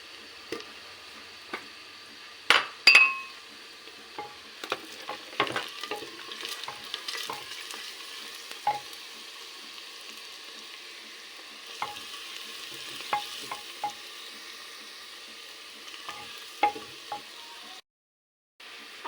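Onions and garlic paste frying in a pan for an aloo baingan curry, a soft continuous sizzle under repeated stirring and scraping, with occasional louder clacks of the spoon against the pan.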